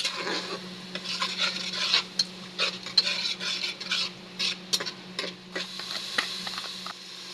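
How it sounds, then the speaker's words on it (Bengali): Spices stirred and fried with ginger-garlic paste in a pan for a drumstick and potato curry: close, steady scraping of a spoon against the pan over a soft sizzle, with irregular clinks and no talking. "এখন মশলাটা ভালো করে কষে নিতে হবে।"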